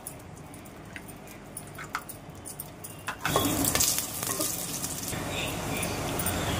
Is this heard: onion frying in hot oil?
yes